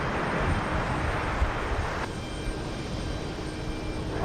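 A Delta jet airliner takes off from runway 13 right at JFK airport, a broad, steady engine roar heard from a distance that stays loud and sustained throughout, with no voices.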